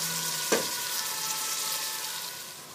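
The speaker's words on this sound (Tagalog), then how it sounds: "Ilalagay ko na yung bagoong alamang." Shrimp paste (bagoong alamang) drops into a pan of sautéing tomato and onion, giving a brief wet splat followed by a steady bright sizzle of frying, with no talking.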